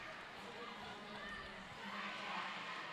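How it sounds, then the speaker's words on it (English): A crowd cheers and shouts steadily in an indoor roller derby venue during a tournament quarterfinal, a broad sustained roar that swells toward the end. "There is a tremendous amount of cheering going on in this venue."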